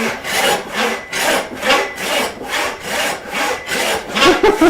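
Hand saw resawing a wooden beam lengthwise, with rhythmic back-and-forth strokes at an even pace, each pull a rasping swell of wood fibers being cut, close and loud with no talk.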